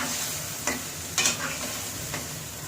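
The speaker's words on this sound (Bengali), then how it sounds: "মাংসের সাথে ভালো করে মশলাগুলি মিলাবো, ভালোভাবে নাড়বো, মশলা যাতে সব মাংসের সাথে মিশে যায়।" Beef and spices sizzle in a pan while a spoon stirs and scrapes through them, with a few distinct scraping strokes over the constant frying hiss.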